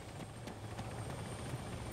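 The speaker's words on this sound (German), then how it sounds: "Der Hubschrauber ist aber immer noch da." A helicopter in the Arma 3 video game drones steadily with a low rotor hum, faint and distant, with no voices.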